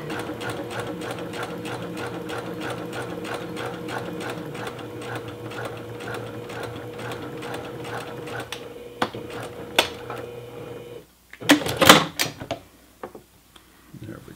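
A sewing machine stitches a T-shirt seam in a steady, fast mechanical rattle for about eleven seconds, then stops, followed by a few brief handling clatters and rustles near the end.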